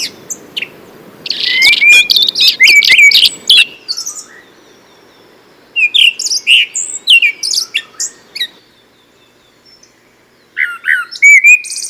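A central Chinese songbird sings in bursts of rich, varied, thrush-like whistled phrases, clear and close, separated by short pauses.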